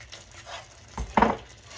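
Bacon-flavored gravy stirred and pressed down in a pan: a soft background simmer, then a couple of close, brief utensil knocks and squishing scrapes near the end, quiet and with no talk.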